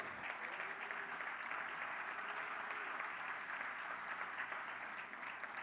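A church congregation applauds for Jesus, a dense, sustained clapping from many hands that fills the room evenly at moderate distance, steady throughout with no break.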